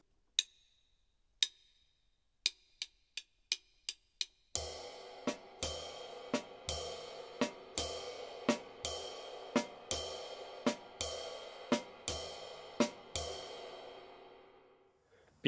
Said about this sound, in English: I would recommend to play the snare drum softer